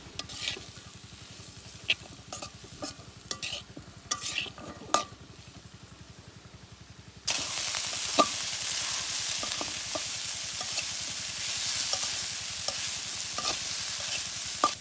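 Onion and capsicum frying in a pan for Maggi noodles, a steady sizzle broken by scraping stirs at first, then a sudden loud hiss as the capsicum hits the oil and keeps crackling with occasional spoon clinks.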